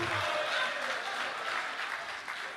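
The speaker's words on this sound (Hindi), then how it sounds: "तालियों का ये जो हुजूम है ये अगले 4 मिसरों पर और ज्यादा बढ़े" An audience at a mushaira poetry gathering in Bahrain claps steadily, a dense sustained applause that holds loud throughout and eases slightly toward the end.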